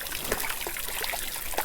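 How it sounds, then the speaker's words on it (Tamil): Clear spring water trickling outdoors in the Megamalai hills of Tamil Nadu, a close, steady gurgling dribble with small splashes and no voices. "ஊற்று தண்ணிங்க, சூப்பராக இருக்குது."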